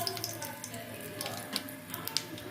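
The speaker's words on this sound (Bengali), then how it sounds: "কালো জিরে ফোড়ন দিলাম, হিং দিলাম, শুকনো লঙ্কা দিলাম" Black cumin, asafoetida and dried chillies tempering in hot oil, giving a steady close sizzle and hiss with a few sharp crackles and pops throughout.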